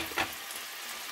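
Minced garlic, three large cloves, frying in oil over low heat and being stirred; a brief sizzling burst near the start, then a steady soft hiss, no talking.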